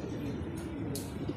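Racing pigeons arriving at a loft after a road toss training near Cabanatuan, with soft, low cooing against a quiet outdoor hum and a brief faint flutter partway through.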